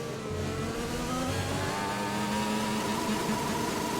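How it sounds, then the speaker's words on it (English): Racing car engine revving in an F1 video game race at the Russia round, a steady loud drone with shifting pitch as the engine climbs and settles, continuous throughout with no talk. "Luke Brax really revving up the engine there."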